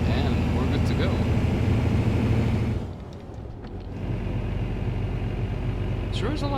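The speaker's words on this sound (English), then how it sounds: "Sure is a loud truck, not for nothing." A loud truck engine drones steadily in Euro Truck Simulator 2, a heavy low rumble that dips briefly and then returns, with faint speech-like sounds over it.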